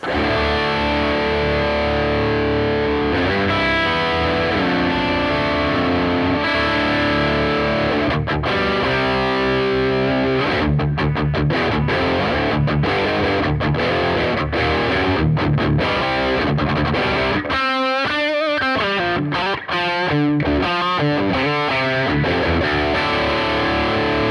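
Heavily distorted electric guitar plays chugging metal riffs through a Fender Bassbreaker 15 amp, loud and dense, with sharp stop-start chops in the middle section.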